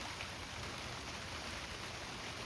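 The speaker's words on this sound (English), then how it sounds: "Or one could sit here under shelter or even in the rain and just take in the rain itself." Steady rain falls over an outdoor landscape, a dense, even hiss of drops on surfaces with no break and no voices.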